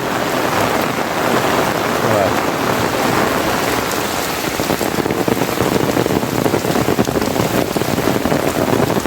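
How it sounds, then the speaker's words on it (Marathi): Heavy monsoon rain in the Konkan region pours down steadily and loudly, a dense continuous hiss of drops pounding nearby surfaces and the camera without pause. "पाऊस आहे आणि कॅमेऱ्यावरतीच पावसाची झड येते"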